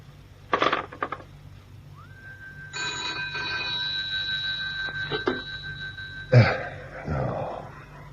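A telephone in a 1960s radio drama rings with a sustained electronic tone for a few seconds, framed by clunks before and a sharp clatter as the ringing stops.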